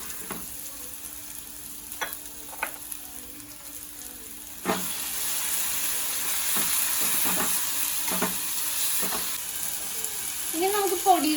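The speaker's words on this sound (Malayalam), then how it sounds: "ഇനി നമുക്കിതിലേക്ക് ചെമ്മീൻ ചേർത്ത് കൊടുക്കാം." Prawns hitting hot oil in a clay pot for a Kerala-style prawn roast: a soft background hiss turns into a loud sustained sizzle, with clinks of a utensil against the pot throughout.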